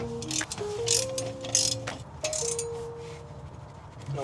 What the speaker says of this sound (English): We're just gonna go around and slowly tighten each one as we go. Ratcheting wrenches, by the way.